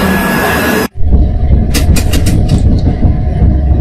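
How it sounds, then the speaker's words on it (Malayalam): The Cape SBC Express (16525) pulls out of Krishnarajapuram station, a loud rushing roar that drops abruptly, then a low rumble with a quick series of metallic clacks from inside the AC compartment. "കൃഷ്ണരാജപുരത്തിൽ നിന്ന് ഇപ്പൊ ട്രെയിൻ എടുത്തുട്ട"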